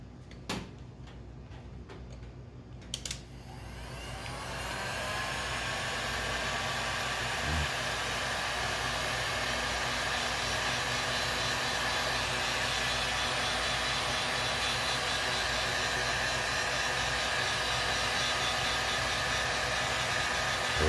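Hot air gun blowing to shrink heat shrink tubing during a K40 laser repair, a steady close whooshing roar that comes up after a few faint clicks and holds evenly.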